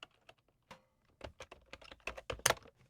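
Someone types a name on a computer keyboard: bursts of crisp, close key clicks in an uneven rhythm, sparse at first and then faster and denser, with no talking.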